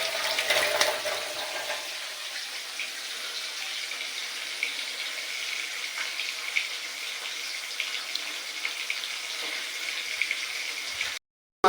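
Pieces of fish frying in a pan in a village kitchen, a steady broadband hiss and crackle that continues alone and evenly for about eleven seconds before cutting off.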